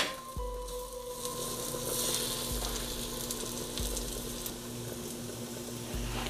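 Spices and red chili powder sizzle and fry in hot oil for sambhar, a steady crackling hiss with a low hum and occasional soft clicks beneath it.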